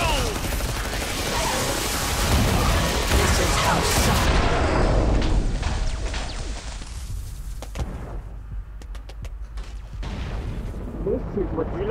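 Shotgun fire in the Killing Floor 2 video game, a dense run of heavy booming blasts that stays loud for several seconds, then thins to scattered fainter shots.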